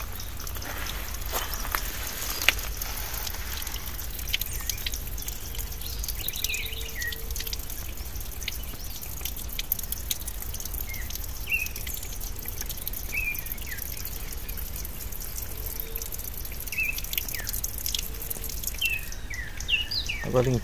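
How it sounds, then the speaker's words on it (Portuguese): A small stream in a wooded refuge runs with water over little cascades, a steady rushing wash with soft drips, while birds chirp and call intermittently throughout. "Já tem água correndo no riachinho."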